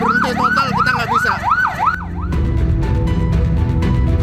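An ambulance siren wails in a repeating rising-and-falling pattern, loud and close, amid a total traffic jam on the toll access road to Tanjung Priok port, then cuts off and leaves the rumble of idling vehicles.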